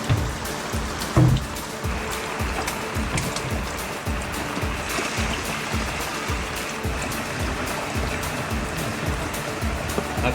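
Heavy rain pours down on a boat, a dense, steady roar of water drumming across the deck and hull throughout, loud and close with no talking.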